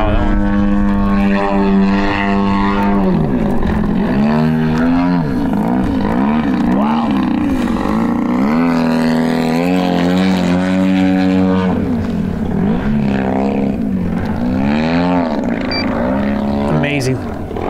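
A 100cc large-scale RC airplane engine roars through 3D aerobatics that bring the plane down to touch a tree, its loud, steady drone rising and falling in pitch throughout while voices talk over it.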